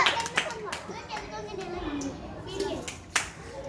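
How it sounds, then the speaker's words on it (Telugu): Children in a classroom clap in quick, uneven bursts, several sharp claps over a few seconds, mixed with young voices talking and chattering close by. "క్లాప్స్ కొట్టండి అందరూ."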